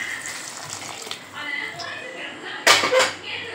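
A short, loud splash of chickpea cooking water being poured into a pot of chana masala, preceded by quiet kitchen background noise.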